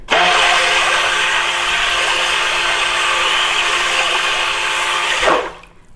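A blender mixes a lavender soap batch with a loud, steady whirring drone and churning liquid for about five seconds before winding down and stopping.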